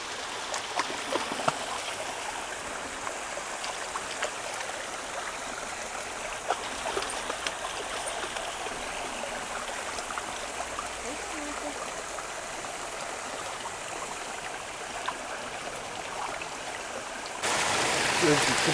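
A small forest waterfall on a stream in the Olympic National Forest, a continuous close rushing and trickling wash of water that swells louder near the end, with no voices over it.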